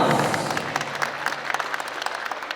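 Wedding guests applaud as the bride is welcomed, a steady wash of many hands clapping at moderate distance that tapers slightly toward the end.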